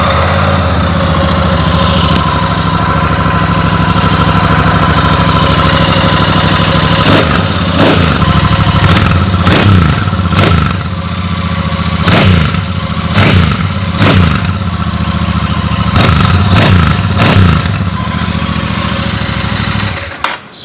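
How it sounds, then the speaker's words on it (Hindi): A Royal Enfield Super Meteor 650 cruiser motorcycle idles with a steady, loud low exhaust thump, broken by several sharp throttle blips that rev the engine up and let it fall back, close to the microphone with no talking. "आपको सुपर मीटियर 650 की एग्जॉस्ट की आवाज़ सुना देता हूँ, और ये ऑन ही है।"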